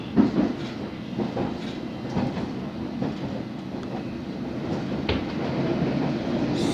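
A London Underground Hammersmith & City line train rumbles and clatters steadily along the rails arriving at Farringdon station, with rhythmic wheel clicks and a low mechanical hum that rises slightly toward the end.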